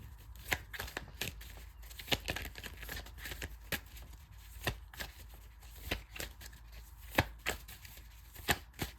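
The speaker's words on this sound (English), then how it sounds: "Let me just continue to shuffle" A deck of tarot cards is shuffled by hand, giving repeated soft, papery slaps and riffles at an uneven rhythm over several seconds, close and fairly quiet.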